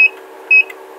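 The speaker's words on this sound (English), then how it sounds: "You hear the 8 quick beeps." An electronic DL Windows 5 4 2 keypad lock, being programmed, gives two short, loud, high beeps about half a second apart with nothing else heard.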